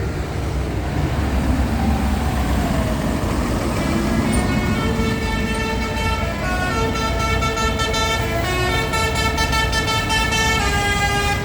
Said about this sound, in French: C'est le klaxon du Gaulois